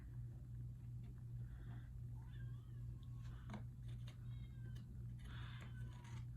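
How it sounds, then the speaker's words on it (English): A house cat meows repeatedly in the background, the several faint meows and cries spread over a few seconds beneath a steady low room hum. "My cat's meowing in the back."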